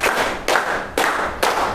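A group in an Indonesian teacher training session clapping together in a counted rhythm, four loud, sharp unison claps spaced about half a second apart, each with a brief echoing decay.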